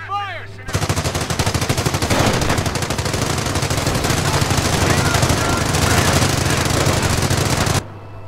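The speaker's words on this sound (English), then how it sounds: "We're coming under fire!" Sustained battle gunfire from the Company of Heroes game, with rapid machine-gun bursts and rifle shots rattling continuously and loudly over a low engine-like drone, with game voices mixed in.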